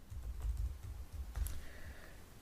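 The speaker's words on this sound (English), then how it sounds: "So I'm going to type that in." Someone types a username and password on a computer keyboard, producing a steady run of close, clear keystrokes that sound alone with no talking.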